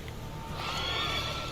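A horse in The Witcher 3 gives a short, fairly close neigh that rises out of a quiet ambient game background and is over within about a second.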